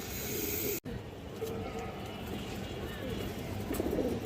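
Kalibaga pigeons coo in low, rolling murmurs through a busy loft, with talking mixed in and a brief dropout near the start.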